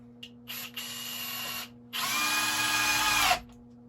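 Hilti SFE 2-A12 cordless drill/driver on speed 2 in drill mode drives a countersunk screw, two close whirring bursts, a short one then a longer steadier one that ends abruptly, with no talking.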